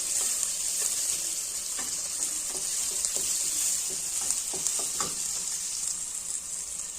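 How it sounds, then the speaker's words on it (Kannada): Capsicum sizzles as it goes into a pan of frying carrots for a carrot stir-fry, a steady bright hiss with soft stirring clicks and scrapes scattered throughout, close and continuous. "ಒಂದೇ ಒಂದು ಚಿಕ್ಕದು ಕ್ಯಾಪ್ಸಿಕಮ್ ಹಾಕ್ತಾ ಇದ್ದೀನಿ"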